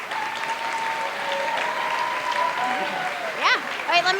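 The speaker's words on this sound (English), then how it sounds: "Keep clapping." Sustained audience clapping at a Moth StorySLAM storytelling event, a continuous moderate wash of applause with cheers and whoops rising over it toward the end.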